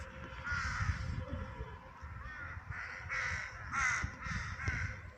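Crows caw in a forest near an old house, repeated harsh calls coming in uneven bursts, some overlapping, at moderate distance over quiet background.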